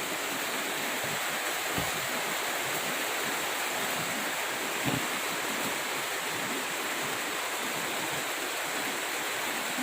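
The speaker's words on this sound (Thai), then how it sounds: "ฝนตก" Steady, dense rain pours down with gusts of wind, a continuous close hiss broken by a couple of faint knocks, with no voices.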